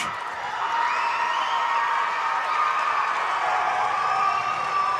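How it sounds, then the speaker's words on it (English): Spectators at a high school basketball game cheer and whoop steadily, a sustained roar of voices with scattered applause and high shouts. "Now we finally get big applause for them."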